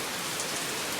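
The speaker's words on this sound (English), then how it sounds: "It's raining!" Steady rain falls outdoors as a continuous, dense hiss of drops hitting surfaces, fairly loud and close, with no talking over it.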